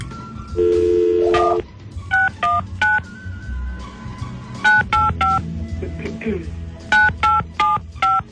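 Touch-tone telephone dialing, a string of short, evenly paced DTMF beeps in two bursts after a longer tone at the start, loud and close, with low background noise between presses.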